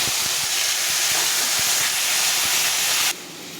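Taro stalks and jackfruit seeds dropped into a hot pan set off a loud, steady sizzle and hiss with faint clinks, which stops suddenly near the end.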